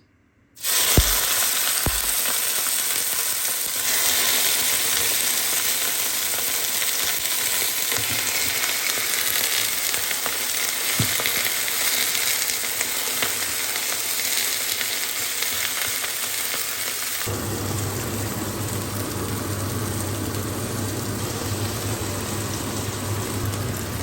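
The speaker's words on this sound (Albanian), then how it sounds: "Ka vendisim tash edhe steak në vajin e nxehur." Steak sizzling and frying in hot oil in a pot, a loud continuous crackle with a few sharp spatters at the start when the meat goes in, steady throughout, shifting to a lower, denser sizzle near the end.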